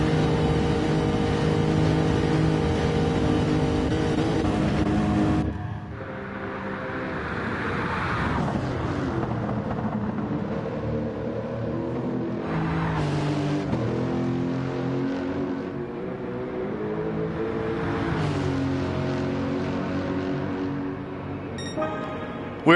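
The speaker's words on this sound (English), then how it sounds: "he is pushing that GT3 race car" A GT3 race car engine in Gran Turismo 7 at the Nurburgring screams at high revs, then drops off and climbs again through repeated gear changes, the pitch rising and falling several times.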